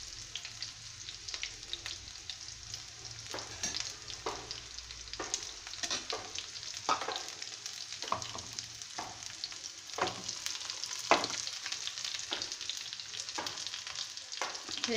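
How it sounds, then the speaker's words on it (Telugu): Garlic and onion frying in oil for cabbage pappu, with a steady close sizzle and crackle broken by scraping stirring strokes, with no talking over it. "తెల్లగడ్డ చూడండి బాగా ఎర్రగా వేగిపోయింది."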